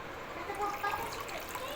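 Water trickles and pours into flour dough being kneaded by hand in a home kitchen, a soft, quiet, steady splashing stream lasting under two seconds.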